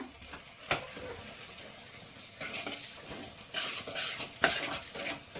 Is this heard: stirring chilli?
yes